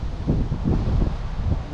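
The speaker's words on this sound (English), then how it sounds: "it is super windy" Strong wind gusting outdoors at a Utah fishing spot, buffeting the microphone with a loud, low, continuous rumble that swells in uneven pulses.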